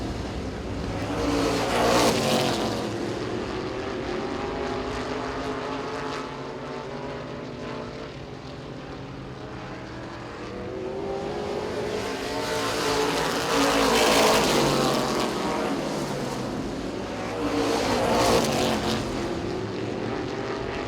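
Race cars roar around the track at Baer Field Motorsports Park during a championship race, with engine noise swelling and fading as cars pass in waves, a continuous loud drone throughout.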